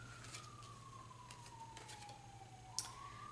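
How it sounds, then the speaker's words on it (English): A distant siren wails in a long, slowly falling tone, steady throughout under a low background hum. "Yeah, we have a siren."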